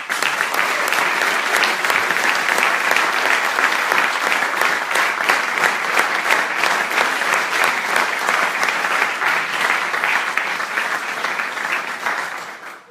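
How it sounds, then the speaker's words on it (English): Loud, sustained applause from an audience at makeathon team presentations, dense clapping that holds steady for over ten seconds before tapering at the end. "held by Professor Daniel Hernandez, so big applause for him."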